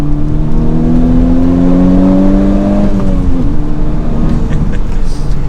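A 2021 Honda Civic Type-R with a 300-horsepower four-cylinder in race mode revs loudly and up close, the engine pitch climbing steadily, then dropping sharply as it rev-matches a shift before settling into a lower drone.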